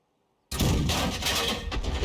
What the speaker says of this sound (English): That was a blind shot just in case the enemy's down there.